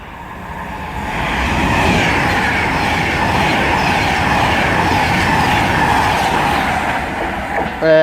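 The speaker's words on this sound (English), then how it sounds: "preparing to pass through now is going to be a Virgin Pendolino for Glasgow Central" A Virgin Pendolino tilting train bound for Glasgow Central roars steadily through Carluke station on the West Coast Main Line, loud and close for several seconds with rumbling wheels and rail noise.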